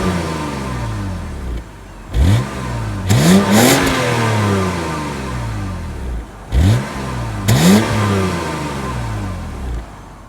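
A car engine with the muffler cut revs hard in two separate bursts, each rising quickly with a throaty roar and then falling off, close and loud, with idle between them.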